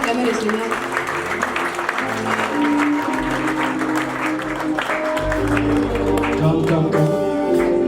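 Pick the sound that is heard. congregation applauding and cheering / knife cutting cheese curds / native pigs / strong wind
congregation applauding and cheering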